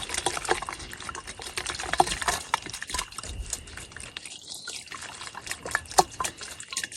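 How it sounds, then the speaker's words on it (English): Sumac lemonade with sugar is shaken and stirred in a pitcher, giving a steady close sloshing and swirling of liquid with scattered small clinks and splashes throughout. "Give it a good old-fashioned shake and stir."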